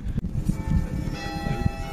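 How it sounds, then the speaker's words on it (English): Bells ring at Durham Cathedral in England, heard as clear sustained tones at a moderate distance under soft ambient murmur and footsteps near the entrance. "Oh, the bell's ringing."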